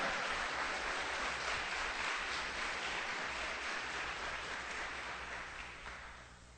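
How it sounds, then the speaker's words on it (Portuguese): Congregation applauding during an evening church service: dense, steady clapping from a crowd that holds loud for most of the stretch and thins slightly toward the end. "Pode aplaudir o Senhor nessa noite."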